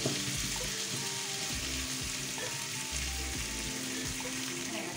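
Bacon and mushrooms sizzling steadily in a frying pan, a dense continuous crackle close up with no talk.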